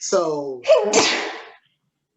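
A single sharp sneeze from a man in a wrestling review discussion, a breathy inhale followed by the burst, with a spoken word just before it.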